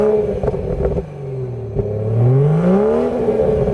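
Stock BMW 440i engine revving nearby, a low rumbling note that swells and rises in pitch through a couple of throttle blips, with a few clicks and clatters, alone without talk.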